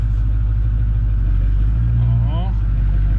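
Old diesel car bought at auction pulling away, a low steady engine rumble with a brief rise in revs, close, with a voice talking over it.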